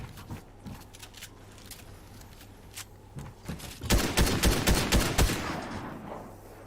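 Gunfire in the video game Fortnite, a few scattered shots and clicks at first, then a loud burst of rapid, repeated shots, close and dense before tapering off, with no talk.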